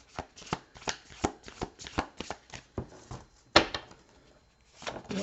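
Tarot cards shuffled by hand, a quick series of crisp riffling flutters and soft slaps in an irregular rhythm, close and fairly quiet, with a brief pause near the end.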